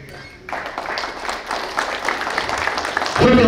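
Guests at a baptism celebration break into applause after a brief quiet moment, the clapping swelling and holding steady, with a louder burst near the end.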